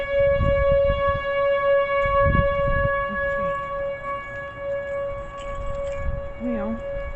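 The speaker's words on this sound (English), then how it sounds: "a tornado siren's going off" A steady wailing tornado warning siren in Richland Hills, Texas holds a constant tone in the distance while a person talks intermittently over it.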